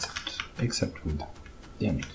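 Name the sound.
computer keyboard typing while playing Factorio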